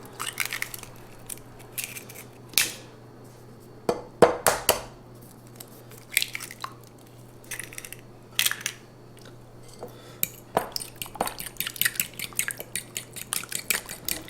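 A utensil clinks and scrapes against a bowl while eggs are mixed into keto pecan bar batter with melted butter, giving irregular close taps and scraping strokes over a quiet background.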